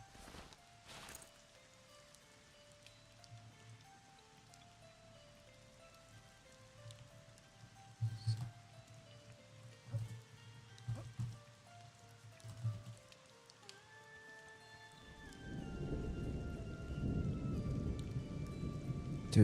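Rain falls in the online role-playing game Monsters & Memories, a soft patter at first under layered game music, then swelling into a loud, steady downpour over the final few seconds.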